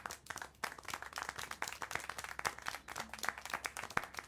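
Applause in the video game Syberia: The World Before, a steady, even patter of many hands clapping at a faint, distant level, continuous with no talk over it.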